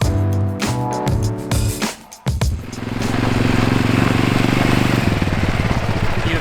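A quad bike engine on Santorini starts with choppy, uneven revving, cuts out briefly, then settles into a loud, steady close-up idle drone.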